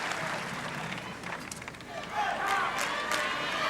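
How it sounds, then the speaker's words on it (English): Swedish tennis fans at the 1987 Australian Open final in Melbourne, Edberg against Cash, raise a steady wash of crowd noise with chanting, shrill cries and clapping, growing louder toward the end. "And they chant, they shriek, they clap."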